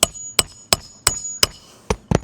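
A hammer drives nails into a shingled roof, seven sharp, evenly spaced strikes ringing out close and loud with short quiet gaps between them.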